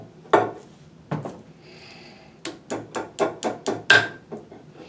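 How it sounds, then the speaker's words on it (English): Sharp hammer taps on metal close by as U-joint clips are tapped in, a few spaced strikes followed by a quicker run of about five, with no talking. "Little big hammer for doing this"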